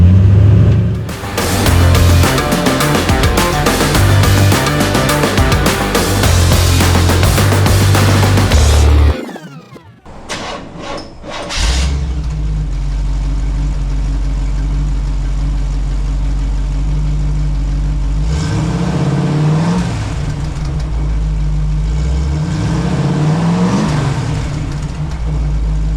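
A 1930s all-metal sedan delivery hot rod idles with a steady low rumble, then gives two sharp revs that rise and fall back. Loud music plays for the first several seconds before the engine is heard alone.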